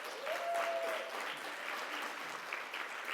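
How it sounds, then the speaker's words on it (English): Audience applause at a nurse leaders' organization gathering, a steady dense wash of many hands clapping that holds for about three seconds and tapers slightly near the end. "Give them a big round of applause."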